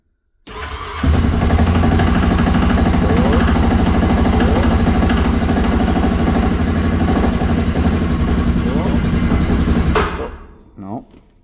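The cold engine of a homemade trail groomer with a brush cutter catches and roars up loudly, runs steadily for about nine seconds, then sags and dies, leaving a few faint rattles.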